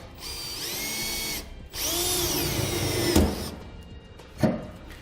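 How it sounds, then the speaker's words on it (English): A power drill bores pilot holes through a steel truck frame, whining in two long sustained bursts of high, pitch-shifting tone as the bit cuts, then short ratcheting clicks and a final brief rev close by; no voices. "Now we can drill out our holes"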